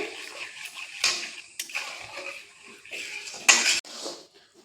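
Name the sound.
stirring rice mixture in a metal pan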